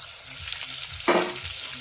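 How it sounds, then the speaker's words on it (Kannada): Tomatoes dropped into a hot pan for palya crackle into a sudden sharp sizzle midway, over soft background frying and stirring noises. "ಇನ್ನೇಂತಲ್ಲೇ ಟೊಮೆಟೊ ಹಾಕಾಕತ್ತೀವಿ ನೋಡ್ರಿ."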